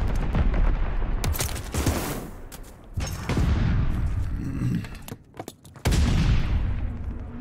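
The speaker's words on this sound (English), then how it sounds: "Friendly bombing run inbound." Airstrike bombing run in a first-person war video game: a loud, dense barrage of overlapping blasts and gunfire in several bursts, with brief lulls between them and a heavy final wave of explosions.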